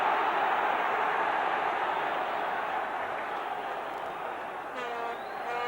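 A steady, broad roar from a football home crowd at an FA Cup fourth-round match between Norwich City and Manchester United, continuous and fairly distant, swelling slightly with no distinct voices on top.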